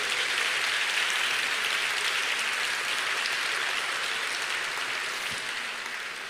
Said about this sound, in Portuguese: Você pode aplaudir a bondade de Deus?